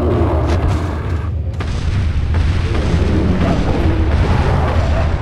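Cannon fire in Resident Evil 4, a heavy continuous booming rumble that stays loud and dense throughout, with explosive low-end blasts layered over one another.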